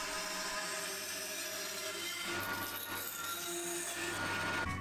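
Sawing through a wooden side panel for a custom mixing board case, a steady rasping, rubbing cut that grows rougher partway through and carries on continuously up close with no talking.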